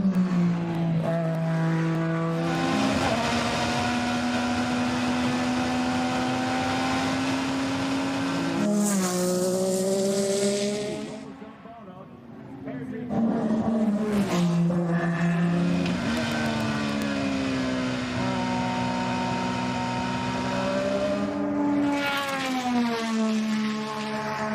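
Race cars at the Goodwood Members' Meeting, loud engines screaming and shifting up through the gears as they pass close by, one after another, with a brief dip between passes.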